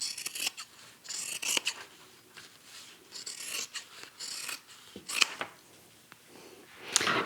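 Scissors snipping off the extra zipper pocket fabric while sewing a bag, a series of close, crisp cuts with short pauses between them, quiet and without talk.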